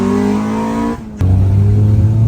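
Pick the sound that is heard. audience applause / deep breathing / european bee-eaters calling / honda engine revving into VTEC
honda engine revving into VTEC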